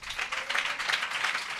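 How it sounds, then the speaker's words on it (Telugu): Congregation clapping hands together at a church service, a dense, steady patter of many claps lasting under two seconds with no talk. "చప్పట్లు కొట్టండి"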